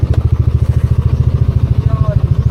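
A motorcycle engine at a beach camp in Batangas idles close by with a fast, even pulsing thump, steady and loud throughout.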